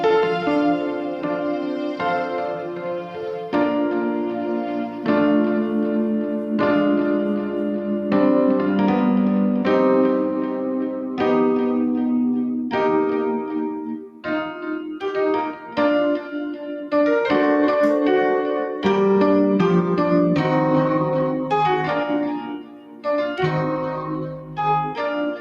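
Gentle piano playing layered with a sustained synthesizer part, a continuous melodic passage of chords and notes with no talking, steady and fairly loud throughout.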